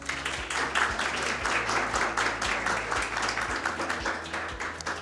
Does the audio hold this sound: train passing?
no